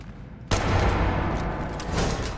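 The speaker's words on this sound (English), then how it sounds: "I'm gonna try to shoot." Gunfire in the Fallout 4 survival mod Frost, from an action rifle: a sharp, loud burst kicks in after a brief quiet, then a dense sustained roar of shots fills the rest of the moment.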